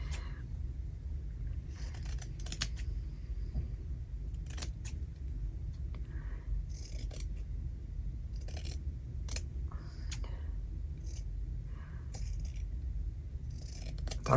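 Scissors snip through fabric in short bursts of crisp metallic cuts, separated by pauses, close and fairly quiet over a low background rumble.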